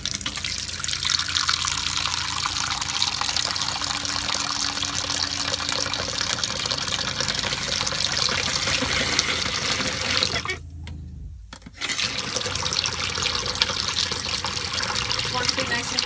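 RV antifreeze pouring from a tap down the drain while winterizing a camper, a steady close hiss of running liquid that stops briefly near the end and then resumes.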